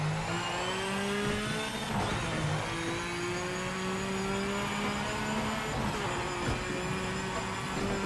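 Race car engine in the video game Project Motor Racing, droning steadily with rising and falling pitch as it revs and shifts, loud and continuous throughout with no talk.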